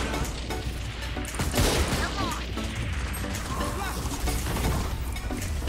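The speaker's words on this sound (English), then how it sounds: "who's shooting at me?" Gunfire in a tactical shooter game, with Chamber as a character, rattling in rapid bursts and sharp cracks amid game noise, while players chatter over it.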